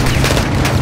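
A heavy, loud boom as a launcher rocket explodes in the video game Modern Warfare 2, a short rumbling blast with no talking.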